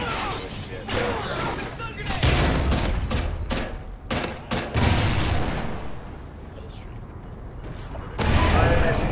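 Gunfire in Call of Duty: Ghosts multiplayer, a suppressed rifle firing in bursts of repeated shots over a busy game soundscape with other weapons, with someone talking over part of it.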